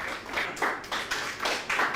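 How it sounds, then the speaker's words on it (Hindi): Clapping for the winning farmer at a farmers' quiz show on paddy cultivation, a few bursts of hand claps rising and falling in short waves, moderately close, no talking. "जोरदार तालियां इनके लिए बजा दीजिए।"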